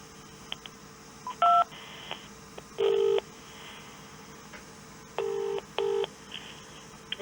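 Telephone keypad DTMF tones dialing a menu option on an automated phone line for a legal complaints office: several short, evenly loud beeps in an irregular sequence, each a steady two-tone burst, with quiet line hiss between them and no talk.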